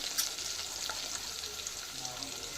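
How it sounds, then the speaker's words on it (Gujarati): Mustard seeds pop and crackle in hot oil over a soft steady sizzle, a quick scattering of sharp little snaps. "રાઈ ફૂટી ગઈ છે"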